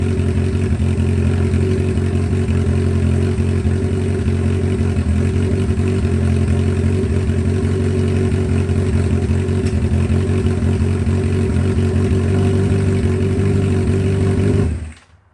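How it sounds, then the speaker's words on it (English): An old engine that has sat unused for about a year idles steadily with a loud, close, even throb and faint mechanical clatter for about fifteen seconds, then cuts out abruptly at the end, with no voices. "I'm going to sit and let it idle for a minute or two"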